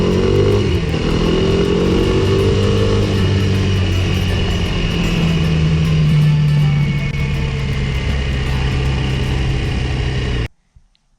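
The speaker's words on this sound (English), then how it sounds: "I was actually thoroughly surprised that you could bump start a fuel injected bike with the battery still connected." Fuel-injected Kawasaki KLX230S motorcycle engine running steadily after a bump start, close and loud with a few rising revs early on, then cutting off abruptly near the end.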